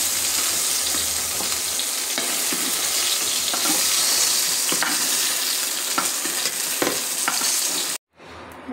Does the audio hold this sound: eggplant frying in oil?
yes